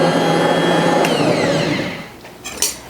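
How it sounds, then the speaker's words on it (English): A stand mixer whirs steadily while combining bun dough ingredients, a loud motor hum with a rising whine that winds down toward the end, followed by a brief knock. "We're just going to turn the mixer on just until these ingredients are combined."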